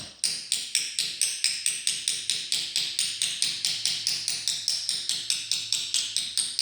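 Steady metallic taps from a hammer fitting a camshaft sprocket on an engine, striking in an even rhythm about four per second, sharp and close with no voices.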